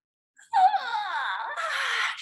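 A drawn-out, wavering yawn rises to a moan and then trails into a breathy exhale, close and fairly loud in a quiet room.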